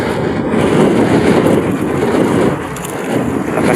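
Strong wind at sea roars as a loud, steady buffeting rush with a brief dip near the end, and no voices.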